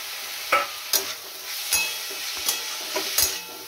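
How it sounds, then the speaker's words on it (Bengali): Steady sizzling of onion and red and green chillies frying in a pan, broken by about six scraping strokes of a spatula stirring at an even pace. "এবার পেঁয়াজটাও এর সঙ্গে একটু ভাজা ভাজা হোক"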